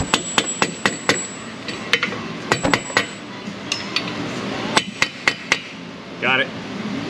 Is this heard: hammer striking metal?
yes